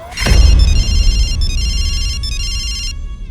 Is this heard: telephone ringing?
yes